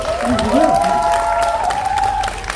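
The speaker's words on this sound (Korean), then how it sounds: "우리 여성님께 박수 한번 주시죠" Applause and cheering from a concert audience, steady clapping under a sustained musical tone and a voice, lasting the whole brief stretch.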